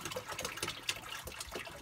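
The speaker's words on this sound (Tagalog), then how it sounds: "my swimming pool is getting filled up by my own daddy" Water gushing into a home swimming pool as it is filled, a steady close rushing and splashing wash with fluttering texture, continuous and moderately loud with no talk.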